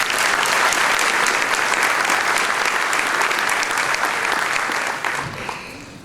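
Loud, dense applause from an audience at a school-related ceremony fills the room for a first grader, steady for about five seconds before tapering off near the end.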